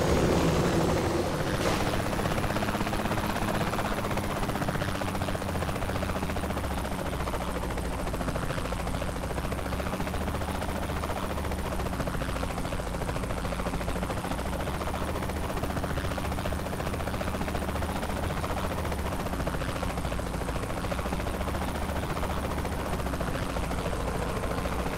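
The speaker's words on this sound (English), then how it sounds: "Where's that guy in the helicopter going?" Helicopter in Saints Row The Third, a steady loud rotor and engine roar that holds close throughout.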